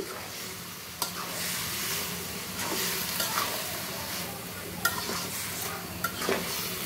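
Bottle gourd curry with hilsa fish heads sizzles in a pan, a steady frying crackle with scraping stirs and a few sharp utensil clicks close by.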